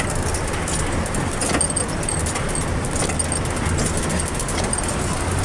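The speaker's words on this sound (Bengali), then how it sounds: "কি পরিমাণ বৃষ্টি চলতেছে দেখুন, গাড়িতে হুইপার চলতেছে, তাও বৃষ্টি কমতেছে না" Heavy rain pounds a moving car during a storm in Jessore, with the wipers running, a steady dense wash of noise that holds loud and unbroken throughout.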